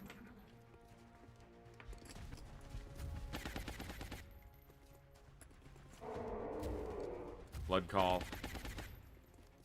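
Gunfire in XCOM Long War: a short burst of rapid automatic shots, with another crackling stretch of fire and game effects around it, under a brief spoken remark.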